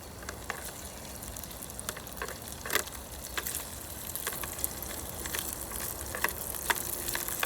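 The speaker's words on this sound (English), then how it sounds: "Love the smell, ow, of potatoes cooking, frying away like that." Potatoes and tomatoes sizzling and frying in a pan on a camping stove, a steady crackling hiss with scattered sharper pops, close and continuous.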